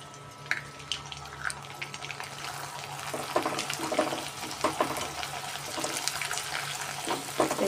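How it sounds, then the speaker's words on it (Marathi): Rice khiche papad frying in hot oil, a steady bubbling sizzle with brief louder crackles as pieces go in, close and alone with no talking. "आता आपण थोडेसे पापड तळून पण बघणार आहे"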